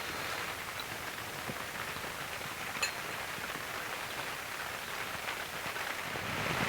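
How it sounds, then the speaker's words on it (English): Steady rain falling at a wild glamping campsite, a soft continuous hiss of drops on surfaces, fairly quiet and even throughout with one brief tap midway, no talk. "And it's still raining, but we don't care."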